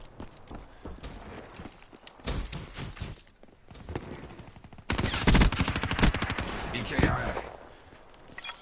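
Rapid gunfire in the Black Ops 4 Battle Royale video game, with dense bursts of shots, the loudest stretch in the second half, mixed with game effects.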